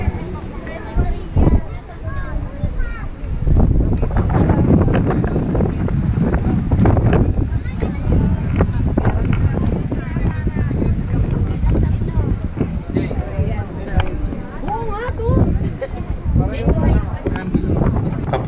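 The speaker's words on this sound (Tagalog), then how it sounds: "maririnig nyo naman yung hangin, sobrang lakas." Strong wind buffets the microphone outdoors by a stairway at a church in Tagaytay, Batangas, a loud, constant low roar and rumble with gusting swells, and voices faintly mixed underneath.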